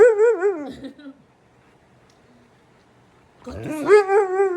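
A husky whines and yowls in long, wavering, talk-like howls, then falls quiet for a couple of seconds before a second loud, drawn-out vocal burst close to the microphone.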